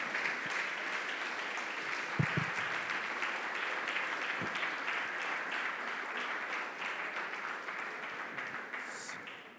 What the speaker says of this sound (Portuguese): Aplauda ao Senhor, então, queridos.